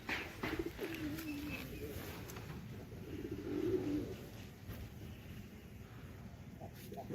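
Domestic deshi pigeons coo softly in their coop, low murmuring calls rising and falling through a steady background hiss, with a brief louder coo near the middle.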